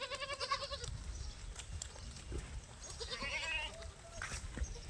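Several goats bleat nearby, a few overlapping cries early and another later, over a murmur of rustling farmyard background.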